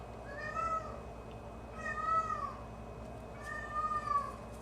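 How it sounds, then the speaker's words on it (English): Pet cat meowing insistently to be let into the basement, three drawn-out, plaintive meows spaced about two seconds apart, close by and fairly quiet indoors, with no one talking. "That's my cat. He's upset because he wants to go in the basement again."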